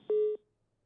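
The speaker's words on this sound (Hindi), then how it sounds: "आशीष जी का फोन डिस्कनेक्ट हो गया है" A single short, clean electronic telephone beep marks a dropped phone call during a live news broadcast, followed by silence.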